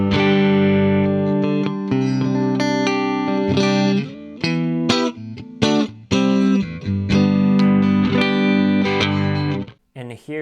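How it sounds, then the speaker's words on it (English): Electric guitar played clean with no effects, ringing out loud, sustained chords and single notes with a few brief pauses, heard alone. "I'll show you guys how this guitar sounds with no effects."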